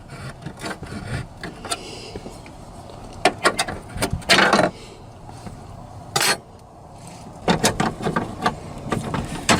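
Bolts being worked out of the dashboard of a 1997 Ford F-150 with the 4.6 engine, with scattered rubbing and scraping bursts and brief clicks of hand tools and trim, close by, no talking.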